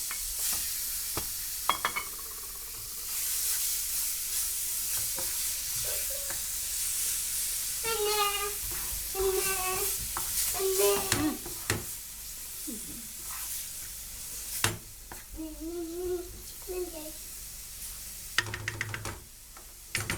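Eggplants cooking in a pan with onions and peppers for hünkar beğendi, soft sizzling under repeated spatula scrapes, clinks and stirring knocks, with some faint squeaky tones in between.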